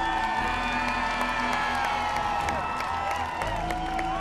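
A pageant audience applauds and cheers the Miss Tahiti 2006 runners-up and candidates, a steady wash of clapping and whoops from a large crowd, moderately distant, with tonal music or voices ringing over it.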